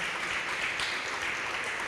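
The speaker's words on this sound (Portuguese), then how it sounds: "Vamos dar uma salva de palmas para o Senhor." Church congregation during a Sunday prayer service gives a round of applause, a dense, steady hiss of many hands clapping at moderate distance.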